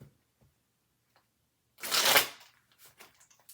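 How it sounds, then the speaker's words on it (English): Tarot cards being shuffled by hand: one brief, close riffle-like burst in the middle of near silence, followed by a few soft handling taps, with no talk. "That needs a better shuffle than that."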